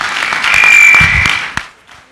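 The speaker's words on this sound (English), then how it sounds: "I want to give a special applause for your effort yesterday" Brief applause from a church congregation at a Christmas service, a short swell of clapping that peaks and fades within about two seconds, with a lone clap near the end.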